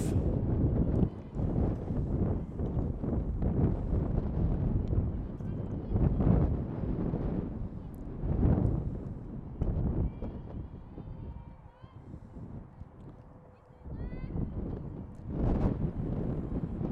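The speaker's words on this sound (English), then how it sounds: "Big gust of wind comes around." A big gust of wind buffets the microphone at an outdoor girls' high school softball game, roaring in loud, uneven surges across the whole stretch while a commentator talks over it.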